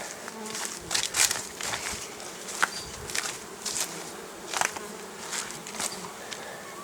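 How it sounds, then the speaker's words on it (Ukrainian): Honeybees buzzing nearby, several insects flying past with droning hums that swell and fade, with no voices. "бджола літає"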